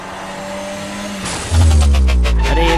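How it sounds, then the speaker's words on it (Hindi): A cartoon car drives along with a steady engine hum, then a loud low thud and rumbling impact as it hits an old man, followed by pulsing engine noise. "अरे एक बुढ़े आदमी को तो शॉन ने कार से ठोक दिया।"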